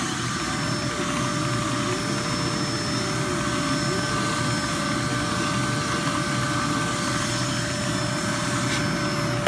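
A Hoover Z700 upright vacuum runs with a steady loud whine and airy roar, and its pet hair tool turns slowly, adding a faint wavering tone beneath the constant motor noise.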